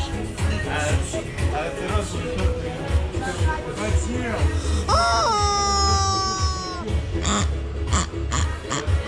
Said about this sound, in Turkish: Domuzu da görüyorsunuz arkadaşlar. Domuz kardeşimizi.